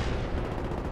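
Rapid burst of gunfire from an M16 in a first-person shooter video game, loud and close, with dense repeated shots packed into one continuous second.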